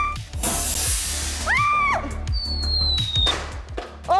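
A homemade bottle rocket fueled with rubbing alcohol ignites with a whooshing burst and rushing roar, joined by shrill whistling tones and clattering noise, loud and close.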